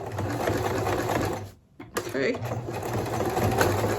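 Home sewing machine running steadily in zigzag stitch along the edge of old towel and sweater fabric for a mop pad, a continuous close hum broken by a brief pause, with a short spoken word over it.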